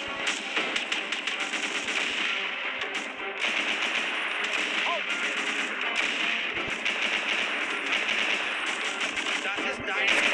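Rapid machine gun fire in the World War II shooter Desert 1943, a dense stream of close, sharp bursts running almost without pause, with voices talking over the gunfire throughout.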